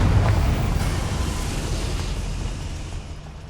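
A Confringo blasting spell detonating in the Hogwarts Legacy video game: one loud, booming explosion up close that rolls and slowly fades away over a few seconds, with no talk.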